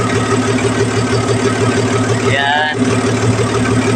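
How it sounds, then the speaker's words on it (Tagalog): A ship's ramp engine runs with a loud, steady drone and low hum throughout while the vessel undocks. A brief voice is heard near the middle. "Dito tayo ngayon nag-ooperate ng engine ramp."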